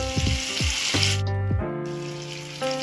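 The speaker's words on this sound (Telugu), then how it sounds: "వేడైన తర్వాత తాలింపు గింజలు వేసుకున్నాం ఆ తర్వాత చాప్ చేసి పెట్టిన పచ్చిమిర్చి ముక్కలు అదేవిధంగా ఉల్లిగడ్డ ముక్కలు అన్నీ వేసుకొని" Chopped green chillies and onions are frying with tempering seeds in hot oil, giving a steady close sizzle with tonal kitchen sounds mixed in and no talk.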